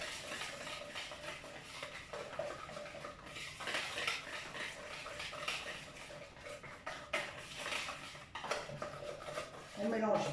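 Cookie batter for marbled cookies is mixed in a bowl, a quiet, continuous scraping and clinking of utensil against the bowl with uneven strokes.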